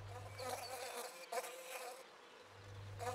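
A single bee buzzes close by in hot weather, a faint wavering drone that rises and dips over a few seconds with no talk.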